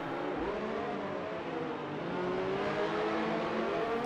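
Racing cars in a video game braking side by side into a chicane on soft tyres, engine tones sweeping down and rising again in a steady, loud drone with no voices.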